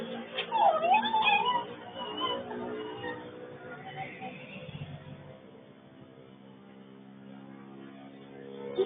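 A cat meows a few times up close, with muffled voices in the background, before things settle into a low steady hum.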